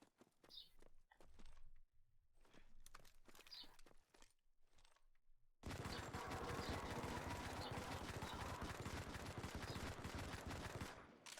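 Gunfire rings out in the Modern Combat 5 mobile shooter, with a few separate bursts and crunching movement sounds at first, then a sudden sustained stretch of rapid automatic fire.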